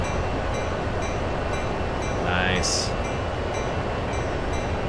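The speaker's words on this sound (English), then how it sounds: "Take a look at their train we're passing." A freight train rolls past in the Train Sim World CSX Heavy Haul simulator, a continuous rumbling clatter of wagons with a brief horn-like tone partway through and a short word spoken over it.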